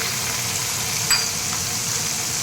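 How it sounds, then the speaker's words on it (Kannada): Peanuts and urad dal with chopped green chilies frying in oil in a pan, a loud, steady close sizzle that holds even for the whole moment, with one faint clink partway through and no talking. "ಈಗ ಶೇಂಗಾ ಮತ್ತು ಉದ್ದಿನಬೇಳೆ ಸ್ವಲ್ಪ ಫ್ರೈ ಆದಮೇಲೆ ಇದಕ್ಕೆ ಸಣ್ಣದಾಗಿ ಹೆಚ್ಕೊಂಡಿರೋ ಹಸಿಮೆಣಸಿನ್ಕಾಯಿ"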